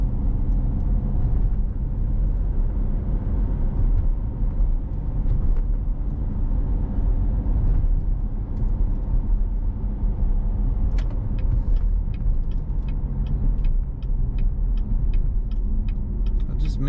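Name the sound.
2014 Chevrolet Corvette Z51 driving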